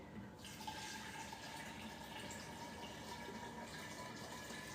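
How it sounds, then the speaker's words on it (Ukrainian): Cooled boiled water pours steadily onto yeast, sugar and citric acid for homemade kvass, a continuous close splashing fill lasting several seconds with no talk. "Заливаю до дріжджів, до цукру, до лимонної кислоти"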